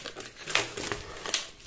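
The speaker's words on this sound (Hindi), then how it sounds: "यहाँ पे इसकी पन्नी भी निकाल लेते हैं।" Plastic film peeled and pulled off a book-shaped money bank, giving close crinkling and tearing bursts with a few louder crackles, alone without speech.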